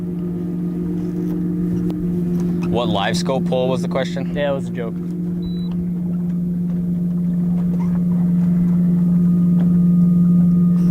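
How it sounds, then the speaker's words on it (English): A steady low engine drone of a nearby boat on a walleye fishing lake runs throughout, growing slightly louder toward the end, with someone briefly talking over it. "That boat's way too loud."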